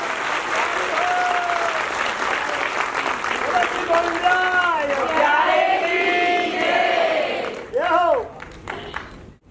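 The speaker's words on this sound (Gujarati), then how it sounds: "એકવાર પૂજ્ય ગોવિંદજી રાયજી માટે જોરદાર તાળીઓ થઈ જાય છે।" An audience at a devotional shringar gathering applauds loudly in a sustained burst of clapping, mixed with singing and music that rise over it before fading near the end.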